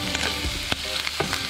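Hot green ají chili peppers sizzle in a pan for a Peruvian cuy tripe recipe, a loud steady frying hiss broken by a few scraping stirs of the spoon.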